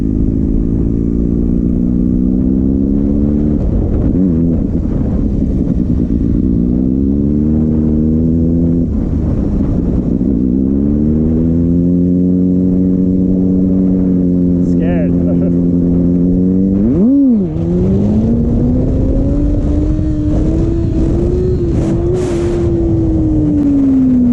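A Kawasaki ZX6R motorcycle revs hard in first gear, its close, loud engine climbing and dropping in repeated surges with one sharp cut before a long rising pull, while a voice talks over it.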